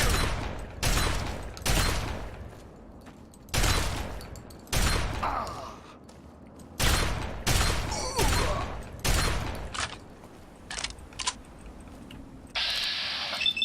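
Gunfire in Fallout: Tale of Two Wastelands comes as a series of loud, separate shots at an uneven pace, spaced about a second apart, with a faint electronic whine near the end.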